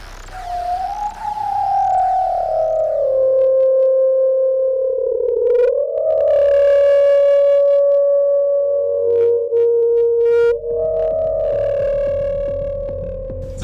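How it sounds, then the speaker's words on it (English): Eerie wailing feedback tones from a classic British synth, sweeping and gliding in long sustained pitches with throbbing, chirping overtones, loud and continuous throughout with no voices. "all sorts of weird and wonderfully eerie wailing tones emerge from the innards of this classic British synth"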